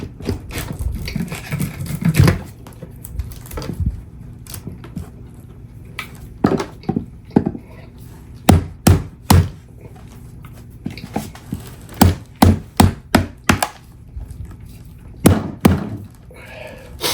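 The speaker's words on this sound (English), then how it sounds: "I gotta get it so I can see the edge so I can get my chisel down in there" Chisel working the edge of an epoxy and wood charcuterie board, heard as a series of close, hard thuds and knocks coming in irregular bursts, some in quick clusters, with faint scraping between.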